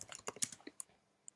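Quick keystrokes on a computer keyboard while code is typed into a browser-based editor, a brief cluster of close, soft clicks that thins out into a few isolated taps, with no talking.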